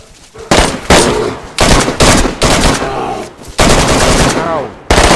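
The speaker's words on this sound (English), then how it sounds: "That was some close shots near to you then, man" Loud, close gunfire in the video game DayZ: a string of sharp, broadband bursts, some in rapid runs, separated by short gaps over several seconds, with no talk.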